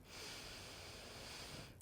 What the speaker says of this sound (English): Take 2 breaths here